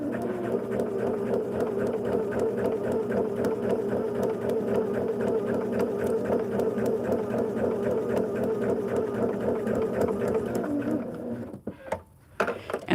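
A domestic sewing machine runs steadily while stitching quilt pieces, a fast even mechanical whirring that continues unbroken for many seconds, then stops abruptly with a few small clicks.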